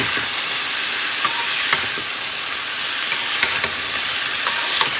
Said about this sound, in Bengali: এগুলো ভালো করে ভাজা করে নেবো